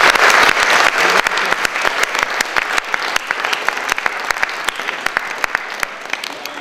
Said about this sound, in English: round of applause for the people who came out